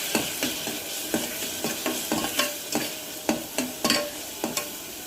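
Spices and chili powder get stirred together in a pot for a pressure-cooker mutton curry: sharp, rhythmic scraping strokes against the metal, close and fairly loud, over a soft sizzle, with no voices.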